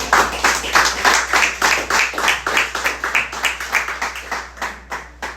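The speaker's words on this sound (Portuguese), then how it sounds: "Você pode aplaudir ao Senhor?" A church congregation at a Nova Vida service claps together for the Lord, a steady rhythmic beat of many hands at roughly two to three claps per second, fairly loud and close, with no speech over it.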